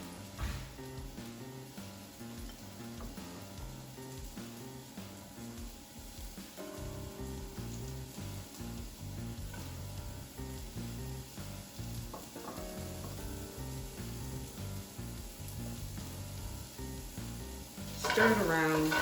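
Ground turkey fries and sizzles in a relatively big pan, a steady hiss running throughout with occasional scraping and clinks of stirring, close and fairly quiet.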